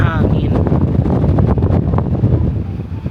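Strong, cold wind while walking outdoors in the Swiss Alps, a loud continuous low roar with gusty buffeting, and a voice is briefly heard over it.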